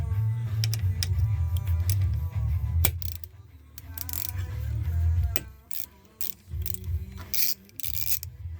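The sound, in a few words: 1/4 inch ratchet with 5mm hex bit socket loosening bolt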